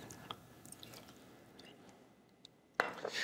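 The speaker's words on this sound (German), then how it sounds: "dann kommt das Wasser aufs Teepan" Water hits a hot teppan plate on a BORA Classic 2.0 cooktop with the downdraft extractor running. A sudden loud splash and hiss bursts in near the end after a quiet, faintly dripping stretch.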